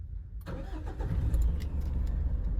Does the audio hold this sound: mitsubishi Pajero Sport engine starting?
yes